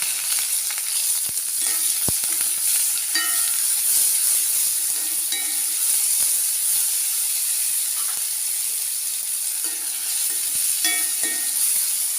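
Chopped onion and curry leaves frying in oil with mustard seeds for a drumstick-flower thoran, a constant close hiss and sizzle with occasional sharp pops and spatters, no voices.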